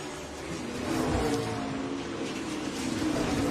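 A NASCAR Xfinity Series race car's engine snarls loudly on a road course through the turns, dipping under braking and surging again on acceleration, heard as a continuous close roar.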